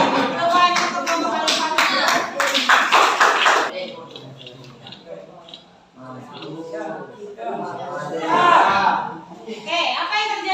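Students in a classroom clap for a group that answered correctly, a short burst of brisk rhythmic clapping followed by chatter and a teacher's voice, with some scattered claps returning later.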